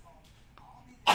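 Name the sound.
sneeze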